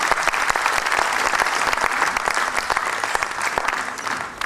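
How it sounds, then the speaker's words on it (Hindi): Loud, dense applause from an audience at an award ceremony, sustained and close, steady throughout with a slight fade at the very end. "कृपया जोरदार तालियां बजाइए।"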